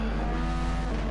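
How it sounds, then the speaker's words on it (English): A GR4 European-manufacturer race car at Brands Hatch in a racing video game roars steadily as it oversteers. Tire squeal blends into the close engine noise throughout the short stretch. "And then the car oversteers."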